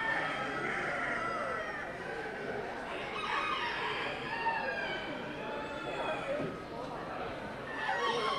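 Many chickens crow and cluck throughout a poultry fanciers show in Delaware, a dense barnyard chorus with roosters calling over a busy indoor hall hum while people talk nearby.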